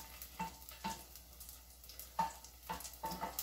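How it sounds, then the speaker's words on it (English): Garlic sputtering in a heated pan, with faint spattering and sizzling crackles and several soft bursts of stirring at irregular intervals, close and quiet, no voices. "And the garlic is already sputtering"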